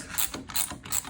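Ratchet wrench clicking as it breaks loose a shock nut on a Bronco during a Wiltrak HOSS 3.0 lift and level install, three close bursts of rapid metallic ratcheting with no talk.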